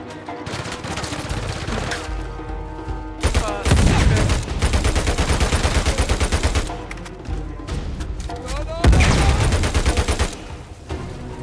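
Rapid bursts of gunfire from Uncharted 4: A Thief's End, loud and sustained volleys with short gaps, dense machine-gun style rattling across the whole stretch.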